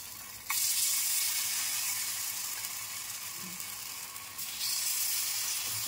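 Semolina paniyaram batter frying in a pan over low heat gives a steady, soft sizzle throughout, with a slight surge near the start and again toward the end and no voices.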